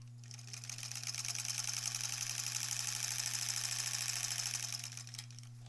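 A sewing machine runs steadily at close range, its fast, even mechanical rattle over a constant motor hum ramping up, holding for several seconds, then winding down.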